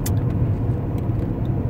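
Inside a car driving along a street, a steady low engine and road rumble continues without a break, with faint clicks over it and no talk.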